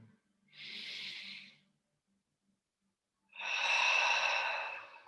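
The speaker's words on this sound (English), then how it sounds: "Breathing in one more time." Slow, deep breathing during a guided breathing exercise: a soft inhale through the nose, a pause of held breath, then a longer, louder exhale out the mouth, close to the microphone with no speech.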